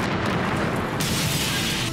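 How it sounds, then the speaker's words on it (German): A huge bomb detonates outside the US embassy in Nairobi, Kenya, on a busy morning, a loud, dense, sustained roar of blast noise that fills the whole clip and brightens harshly partway through. "wird die Luft von einer gewaltigen Explosion erschüttert"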